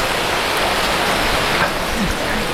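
Steady, dense rain at a hilltop spot near Situ Lengkong Panjalu in Ciamis, a broad continuous hiss of drops falling on surfaces close by, with a voice speaking faintly beneath it.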